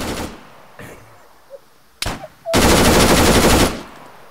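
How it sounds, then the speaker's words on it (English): Gunfire in the video game Arma (Altis Escape): a few scattered sharp shots with short gaps, then a loud sustained burst of rapid automatic fire lasting about a second before cutting off. "Should I shoot at him?"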